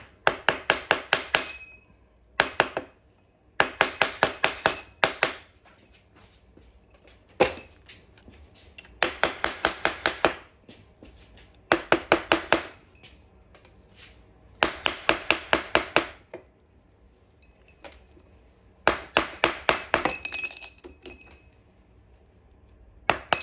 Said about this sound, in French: À l'aide d'un petit marteau en bois.